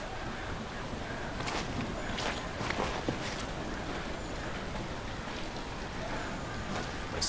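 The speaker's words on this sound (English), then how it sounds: "You'd be super miserable too, walking through the rain." Steady rain hisses throughout in a horror video game, a constant wet wash with a few brief brighter splashes or steps scattered across it, no talking.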